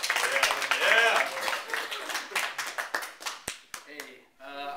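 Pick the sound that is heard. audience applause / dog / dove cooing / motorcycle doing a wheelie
audience applause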